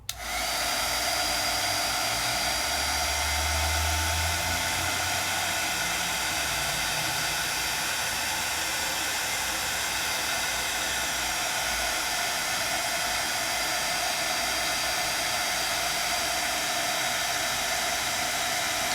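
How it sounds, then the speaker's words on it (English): A handheld heat tool blows hot air over embossing powder, giving a steady, loud, close whooshing hiss that starts abruptly and holds constant throughout. "And I just hold my heat tool until I see it change."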